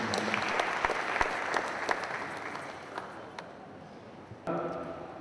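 An audience at a scientific conference day claps for a speaker, a dense burst of applause that gradually thins and fades over several seconds before a brief louder rustle near the end.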